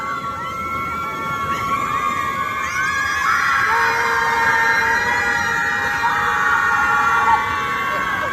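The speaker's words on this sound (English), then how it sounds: "That's Lake Michigan in the wind, in the late fall. Unleashing primal screams." A group lets out long primal screams on a windswept Lake Michigan beach in late fall. The wavering, overlapping cries are sustained for the full stretch over steady wind noise, with no talk.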